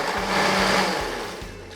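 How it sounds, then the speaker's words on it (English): A blender pulses vegetables with cooking liquid in a short burst, its motor whirring loudly for about a second before winding down, with rhythmic chopping thuds underneath. "I'm going to give this a quick pulse before I start adding the rest of the seasonings."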